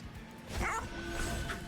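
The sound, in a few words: bone dog unit barking in Monster Train 2 video game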